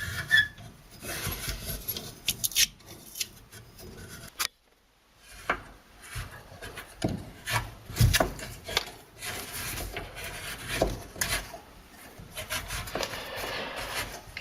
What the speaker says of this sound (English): I might have to use a hacksaw to cut it because there's not a lot of space.